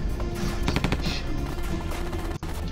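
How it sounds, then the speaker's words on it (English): Rapid video game gunfire rattles in quick bursts, dense machine-gun-like volleys close and fairly loud over a steady background of game noise. "people are being shot."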